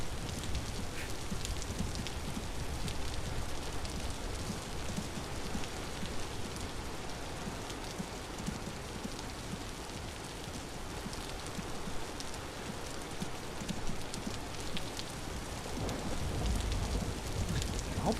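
Steady, dense rain falls in the video game Vintage Story, a constant hiss of drops on surfaces that holds at an even loudness throughout, with no voices.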